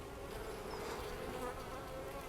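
Calm, gentle honeybees from a small wild-caught colony, a continuous close buzzing hum filling the space at low level without pause.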